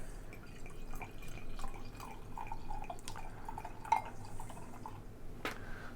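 A 2014 Brooklyn Hand and Seal barleywine, aged about nine years, poured into a glass: a quiet, steady trickle with scattered drips and light clinks, heard alone and close.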